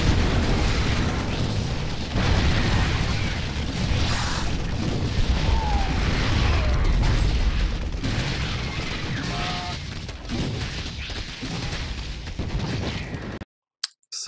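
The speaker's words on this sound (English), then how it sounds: "it plays a little death animation when the bunker gets destroyed" A bunker blown up in the StarCraft II video game, heard as a sustained explosive rumble with bursts and crackling debris that fades before an abrupt cutoff.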